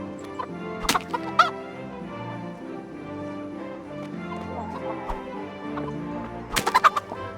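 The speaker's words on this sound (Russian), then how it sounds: "Так, пойду пока куриц набью себе." Chickens cluck and squawk in the Kingdom Come Deliverance game, with a steady mix of soft clucks and a few sharp louder bursts amid faint background activity.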